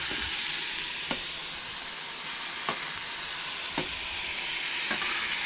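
Onions frying in a pan for Goan-style chana masala give a steady close sizzle, with a few sharp stirring clicks and scrapes spaced through it and no talking.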